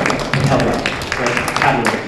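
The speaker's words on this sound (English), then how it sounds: "let's give them all a big round of applause when you invite them" An audience at an interfaith youth forum claps for panelists coming on stage. The applause is a continuous, fairly loud wash of hand claps that swells in waves, with voices mixed in.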